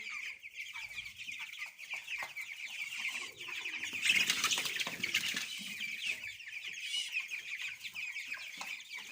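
Fifteen-day-old chickens cluck and squawk continuously nearby, the flock growing louder in the middle, with no voices over it.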